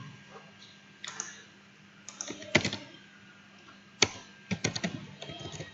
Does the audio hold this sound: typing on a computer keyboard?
yes